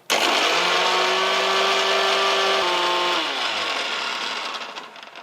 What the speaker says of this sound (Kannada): ಈಗ ಇದು ಮುಚ್ಚಳ ಮುಚ್ಚಿ ನುಣ್ಣಗೆ ರುಬ್ಕೋತೀನಿ ರೀ.